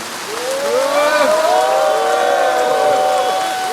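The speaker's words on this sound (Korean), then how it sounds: "나오실 때에 뜨겁게 박수로서 환영해 주시면 감사하겠습니다" An audience at a March 1st independence-spirit rally in South Gyeongnam warmly applauds a lecturer coming up to speak, a loud, sustained wash of clapping with tonal crowd voices ringing over it.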